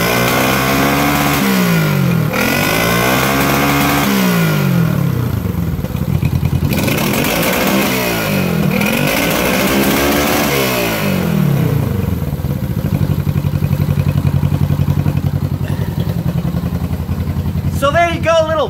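A Honda CB350 motorcycle idles and revs with an ignition misfire on one cylinder, its exhaust fluttering and popping unevenly in steady, loud, close pulses, with a voice talking over the engine.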